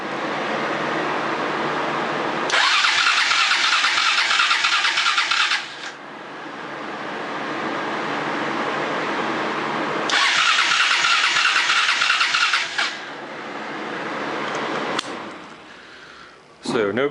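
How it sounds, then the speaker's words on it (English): Starter cranking on a small carbureted engine, two whirring bursts of about three seconds each separated by a pause, over the steady hum of a nearby cooling fan. "we'll go ahead and give this thing a crank and see what happens"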